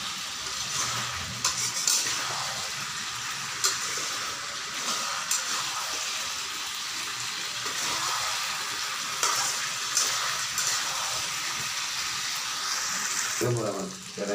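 Chicken feet curry being stir-fried on high heat in a pan: a continuous loud sizzle with intermittent scraping of the spoon, close and steady throughout.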